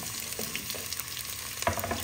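Onions hiss and crackle in hot oil for a Togarikalu curry, a close, continuous sizzle with small pops and a brief louder splutter near the end, with no voices.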